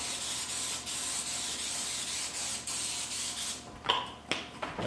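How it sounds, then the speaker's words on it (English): A steady hiss of aerosol cooking spray onto a cookie sheet runs for several seconds, then breaks into a few short bursts with small clicks near the end. "I'm gonna spray our cookie sheet down good."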